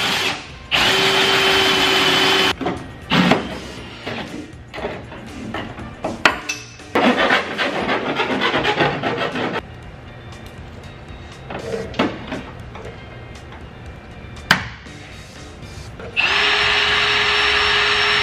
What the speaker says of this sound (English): Then I use a 2 9/16 hole saw.